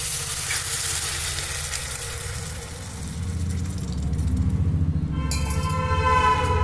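Steady loud sizzling and bubbling as water is poured into a hot pan of onions, green chilli, turmeric and vegetables, continuous throughout with a brief shift partway through.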